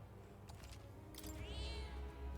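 A cat in the video game Metaphor: ReFantazio gives a short, rising meow near the end, close but faint over low ambient game sound.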